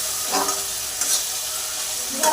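Water poured onto a spice paste frying in a pan for a soybean and paneer vegetable curry, giving a close, loud hiss and sizzle with a few bubbling bursts, no talk.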